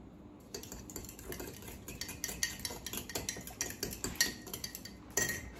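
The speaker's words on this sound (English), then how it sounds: "I'm going to give this a stir." A utensil stirs salted dressing for a roasted-vegetable pasta salad in a bowl, giving a steady run of close, light clinks and scrapes against the dish.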